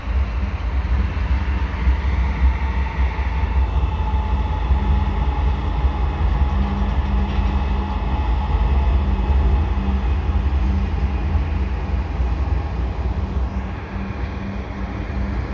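A CN mixed freight train, led by a single locomotive, passes on a winter afternoon, its steady, loud rumble and rolling wheel noise continuing unbroken throughout.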